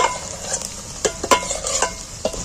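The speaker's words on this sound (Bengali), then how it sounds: "এইভাবে নেড়ে পেঁয়াজগুলোকে আমি লাল লাল করে ভেজে নেব" Onions frying in oil for a village-style mutton curry, stirred with a spatula: a steady close sizzle broken by several sharp scraping strokes against the pan, with no talking.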